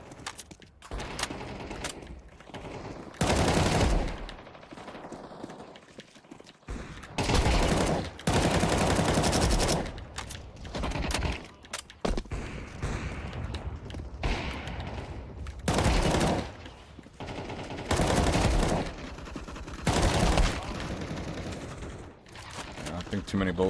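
Bursts of automatic rifle fire in a video game, several loud sustained volleys separated by quieter gaps, with someone talking in between.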